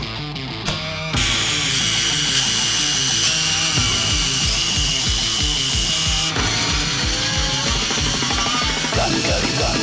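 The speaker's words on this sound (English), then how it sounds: "I've got to drill some holes in this." A loud power drill whirs in steady bursts, drilling holes in a heavy part for an Austin Ten Special rat rod, its motor pitch wavering as it bites into material, close up and dominating.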